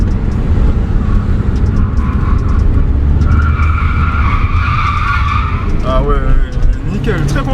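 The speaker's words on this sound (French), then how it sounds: "Tu nous fais un drift." An Audi A3 S line drifting, its tires screeching in a loud, sustained skid over a roaring engine, rising in pitch toward the end while people talk nearby.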